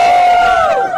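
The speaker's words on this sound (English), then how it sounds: "there was a big cheer for African American" Crowd at a political rally cheering and shouting together, loud and dense throughout the short burst, with a sustained chorus of voices.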